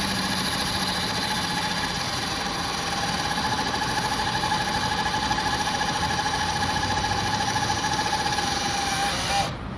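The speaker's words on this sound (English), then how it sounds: "The engine roars. The saw blade digs deep into the old wood." A chainsaw engine roars at a constant, steady pitch throughout as it cuts into an old log, loud and close, cutting off at the very end.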